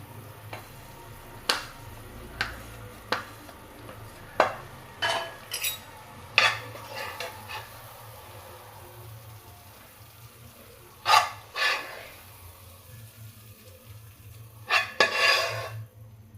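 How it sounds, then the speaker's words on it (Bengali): A spoon scrapes and clinks against a pan as drying food, clumping and sticking together, is stirred. The strokes come as close, irregular bursts spread over about sixteen seconds, with quieter gaps between them. "এইভাবে নাড়িয়ে দেখছেন কীরকমভাবে শুকিয়ে গেছে, লেগে একের সঙ্গে আর হয়ে যাচ্ছে"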